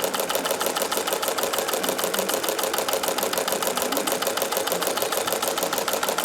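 A Singer sewing machine fitted with a walking foot attachment stitches in a fast, even, mechanical chatter, close and continuous throughout with no voices over it.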